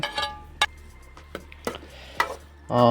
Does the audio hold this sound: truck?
no